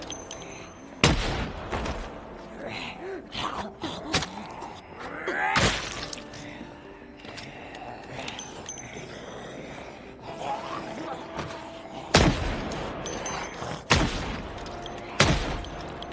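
Gunfire in the Project Zomboid zombie game, likely from a .38 Special revolver: about five loud, sharp shots spaced unevenly apart, with quieter ambient game sounds between them.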